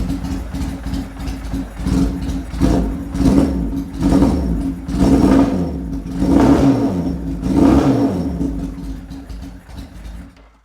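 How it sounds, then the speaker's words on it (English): A 1977 Kawasaki KZ1000 or Honda CB160 vintage motorcycle engine runs close by, its exhaust rising and falling in a series of repeated revs over a steady low rumble, without talk. "Let's start it back up."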